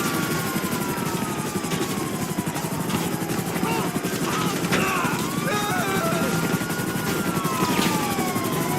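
The Hunter helicopter in GTA 5 Online thrums with a steady rotor drone while loosing a barrage fire, with streaking whistles and scattered blasts layered over the engine throughout.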